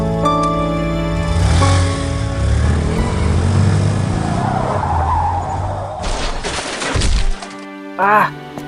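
A vehicle skids loudly on the road while swerving to avoid a dog, engine roaring close, ending in a brief screech and rattle.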